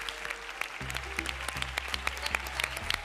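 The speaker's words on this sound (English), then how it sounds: "Give her a round of applause" A game show studio audience applauds an eliminated contestant, with a burst of fairly quiet clapping carried over a low, steady musical sting and rising bass tones.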